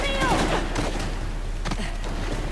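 Gunfire in Uncharted: The Lost Legacy, with bursts of shots and a sweeping whistle over a steady low rumble, mixed with speech.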